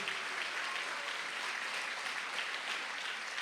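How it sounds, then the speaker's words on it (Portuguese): A church congregation applauds in praise during a worship service, producing a dense, continuous wash of clapping that holds steady and fairly loud throughout, with no speech heard over it. "Pode aplaudir a Jesus."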